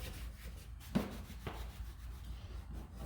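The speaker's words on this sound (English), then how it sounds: "So just rub it on." Finish is rubbed by hand onto a wooden panel, a soft, close scuffing with a couple of firmer strokes standing out from the low rubbing.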